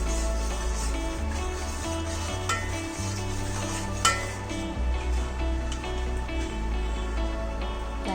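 Ghee heats and sizzles in a pan while mokal, a Marathi sweet dish, is being made. A steady frying hiss runs throughout, with stirring scrapes and a low tonal hum underneath.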